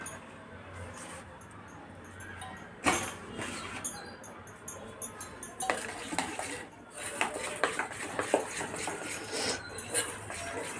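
A spoon mixes gram flour into a spiced yogurt marinade, starting quietly, then giving a steady run of close clinks and scraping strokes against the bowl after a few seconds, with a soft voice faintly in the background.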